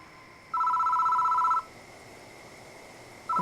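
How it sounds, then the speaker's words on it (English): Electronic telephone ring in the horror game Death Mark: one loud, trilling burst lasting about a second, then a pause before the next ring begins, over a quiet background hum. "The phone is ringing."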